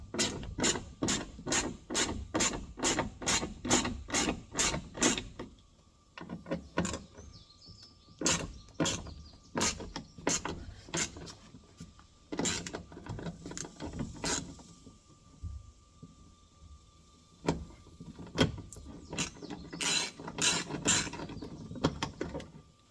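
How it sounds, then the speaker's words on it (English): A ratchet works on blue-Loctite-secured bolts of a Ford F-150 SuperCab rear door latch. It gives bursts of rapid, close clicking strokes, separated by short pauses and a few scraping rubs. "get a good ratchet on there and break those loose"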